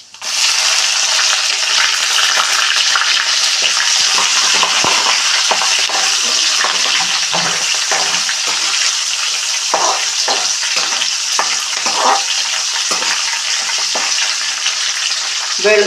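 Chopped onion and small red shallots with curry leaves hit hot oil in a pan, giving a loud, dense, continuous sizzle with scattered crackles and stirring scrapes throughout.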